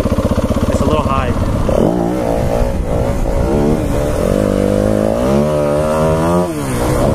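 A motorcycle engine revs repeatedly during riding practice, loud and close with rising and falling buzzy pitch, mixed with wind and some speech-like voice over the engine.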